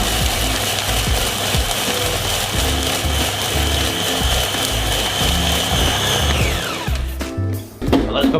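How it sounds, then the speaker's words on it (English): A blender grinds ice with Magners cider for a slush, a loud rattling mechanical whir that churns steadily before winding down and stopping. "Now let's blend right into it."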